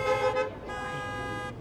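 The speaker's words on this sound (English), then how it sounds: "We're hearing the horns honk at the World Gym Arena." Car horns honk and toot from parked cars at an outdoor drive-in professional wrestling show at the World Gym Arena, steady overlapping blasts that dip briefly and swell again across the whole stretch.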